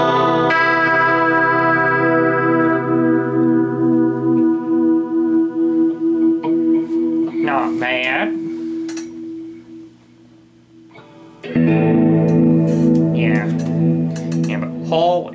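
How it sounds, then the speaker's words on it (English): An electric guitar runs through the plate setting of a reverb pedal, with a tri-chorus rack tone as the goal. A sustained chord rings out and slowly decays into a washy tail, then a fresh strummed chord swells back in, loud and alone. "And plate, another standard on most reverb pedals."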